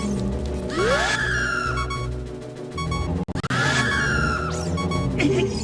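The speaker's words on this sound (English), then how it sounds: "the one that they're most scary in is in Ocarina of Time because of their terrifying shriek that they lunge at you" A terrifying enemy shriek from the Ocarina of Time video game: a loud, harsh, wavering scream rises, cuts off briefly, then returns just as strident, with no voices over it.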